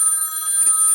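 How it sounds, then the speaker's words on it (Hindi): A telephone rings indoors at home with a bright electronic trill, loud and continuous for about a second with no voices. "फ़ोन पे घंटियाँ बज रही हैं, ट्रिन ट्रिन ट्रिन"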